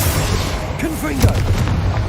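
A Confringo spell goes off in Hogwarts Legacy as a deep, booming burst over a constant loud game rumble, with voices of characters speaking over it.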